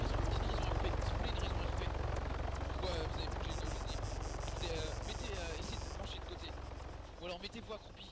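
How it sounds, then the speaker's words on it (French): Helicopter in the military sandbox game Arma 3 droning steadily with a loud rotor buzz throughout, staying strong and fading a little toward the end, with voices talking over it. "j'entends plus rien avec l'hélico"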